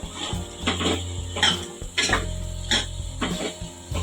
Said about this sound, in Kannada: ಹಲಸಿನಕಾಯಿ ಹಾಕಿ ಎಲ್ಲನೂ ಒಂದು ನಿಮಿಷ ಅಥವಾ ಎರಡು ನಿಮಿಷ ಚೆನ್ನಾಗಿ ಫ್ರೈ ಮಾಡ್ಕೋಬೇಕು